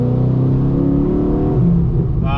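A car drives along the road, heard from inside as a loud, steady low engine rumble and road drone that shifts slightly near the end, with no talking.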